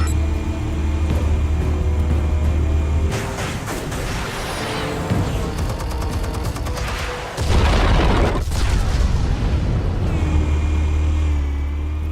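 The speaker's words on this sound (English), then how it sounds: "Explosives armed. Fire when ready." Explosives detonating in the Batman Telltale Series game, heavy booming blasts with rumbling low end and debris over a continuous loud game soundscape, a sharp burst midway and another strong blast near the end.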